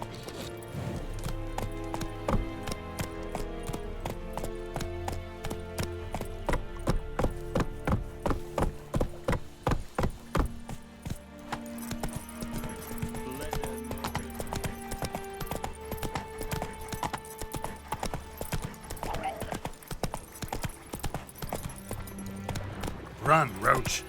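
The horse Roach gallops in The Witcher 3, a steady run of hoof clip-clops under a layer of game music, with tones and rhythmic beats continuing across the whole stretch.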